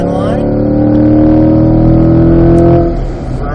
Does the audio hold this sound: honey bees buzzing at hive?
no